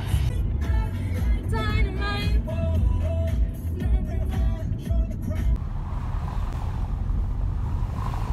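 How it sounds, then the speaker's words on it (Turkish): Loud street traffic in Antalya, with passing cars rumbling continuously close by, a broadband roar and wind buffeting, while a faint voice is heard briefly. "Arabanın sesi gerçekten çok kötü."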